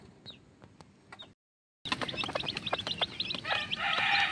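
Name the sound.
chicks in a coop being fed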